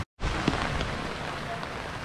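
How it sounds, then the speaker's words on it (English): Steady rain pours down in Douala, Cameroon, outside a hospital, a dense continuous hiss that starts abruptly after a split second of silence and stays loud and close. "It's raining."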